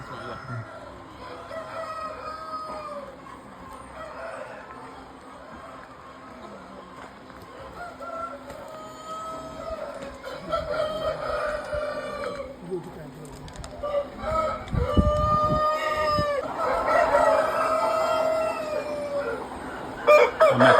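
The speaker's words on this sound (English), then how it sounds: "I'm at the chicken farm right now." A chicken farm in Ghana, with many chickens clucking steadily and roosters crowing repeatedly from several spots at varying distances, some close and loud. Someone talks intermittently through the flock noise.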